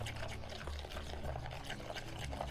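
Cake topping mixture for a pineapple upside down cake pours steadily into a cake tin lined with baking paper, a soft continuous liquid pour heard close up with no talking.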